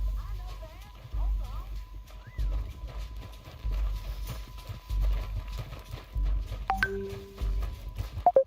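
Horse hooves clip-clop steadily in Red Dead Redemption 2 on PC, a rhythmic plodding gait under near, continuous talking, with a couple of sharp electronic tones near the end.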